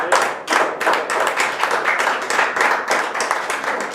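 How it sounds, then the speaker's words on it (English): Toastmasters meeting attendees give a big round of applause, lively close clapping from a modest group with uneven surging bursts and no speech over it. "Give a big round of applause to Toastmasters."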